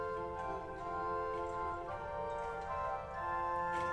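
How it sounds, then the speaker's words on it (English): A pipe organ's 4-foot Euphona bass stop in a church in Hasselt, Belgium, holding soft, reedy, string-like sustained tones that shift chords gently, fairly quiet with room reverberation. "Also, it's a very interesting stop in 4 foot bass called Euphona."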